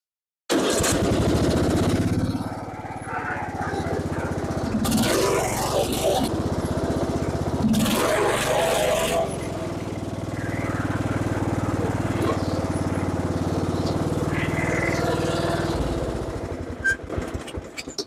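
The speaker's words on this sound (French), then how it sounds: "je suis heureux de vous annoncer que le tracteur démarre et roule" An old tractor engine runs with a steady, rough mechanical drone close by, idling and revving unevenly before cutting off near the end, with a voice briefly heard over it.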